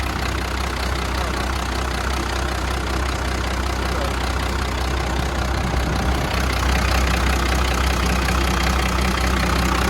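A dry engine runs steadily at idle, a continuous low rumble with a faint knocking texture that holds evenly throughout, close and fairly loud with no talk.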